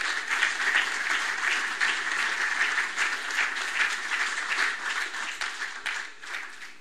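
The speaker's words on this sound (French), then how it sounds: "on applaudit s'il vous plaît." Audience at a decoration ceremony applauds in a sustained, fairly distant wash of clapping that thins and fades slightly toward the end.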